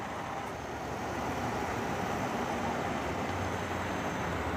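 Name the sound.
2015 Jeep Wrangler Willys Wheeler engine idling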